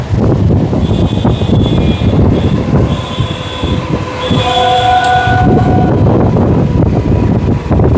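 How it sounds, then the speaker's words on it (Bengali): Sealdah–Amghata local train rolling into a platform: a steady loud rumble of wheels and carriages runs throughout, with tonal horn or squealing wheel notes sounding midway for a few seconds, heard close from aboard the train, with no talking. "এবার কিন্তু প্ল্যাটফর্মে ঢুকবে আর কি ট্রেন"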